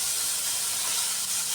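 Sliced vegetables hit a hot pan of tempered spices for a bean-and-tengra-fish dish, giving a steady, loud hiss of sizzling that holds unbroken throughout, close and alone.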